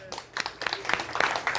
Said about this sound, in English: Ah, excelente, round of applause.